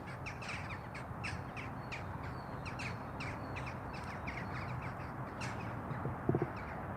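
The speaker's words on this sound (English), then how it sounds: "The crows are migrating for the evening." A flock of crows caws continuously overhead, many overlapping calls at a distance, with a brief low thump near the end.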